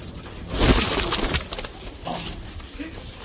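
Pigeons perched close by give soft, throaty coos in short bursts, with rustling and handling noise around them.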